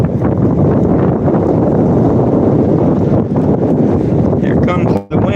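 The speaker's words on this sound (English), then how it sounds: "Here comes the wind." Strong outdoor wind roars constantly against the microphone in loud, buffeting gusts that swamp everything for several seconds, with a brief dip near the end.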